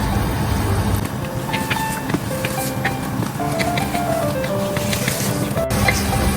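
Pork is stirred in a hot pan with light and dark soy sauce for a Shanghai bamboo pork dish, producing continuous sizzling and scraping with clattering utensil knocks throughout, close and fairly loud.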